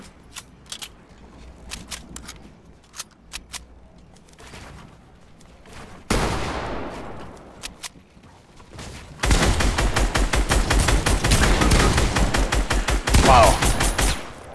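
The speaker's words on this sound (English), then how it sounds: "He decided to shoot me." Gunfire in a video game shooter: scattered single shots at first, then a burst, then a long rapid automatic volley that grows loud and dense, with occasional game sounds.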